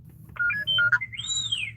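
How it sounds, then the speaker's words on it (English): A phone ringtone plays short electronic melodic notes, then a rising and falling warbling tone, close and clear over a low background hum. "I need to mute this phone."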